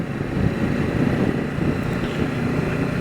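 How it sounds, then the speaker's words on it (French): Strong wind gusts buffeting the microphone on a winding mountain departmental road, a steady loud rumbling roar that swells and surges throughout with no speech. "Les rafales de vent sont de plus en plus violentes"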